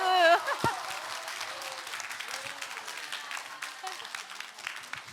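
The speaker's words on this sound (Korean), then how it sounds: "박수" An audience at a 416 Choir touring concert in Sejong applauds a correct quiz answer, a steady wash of clapping that follows a brief voice at the start and slowly thins out.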